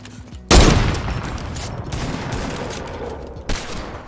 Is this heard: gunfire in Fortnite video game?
yes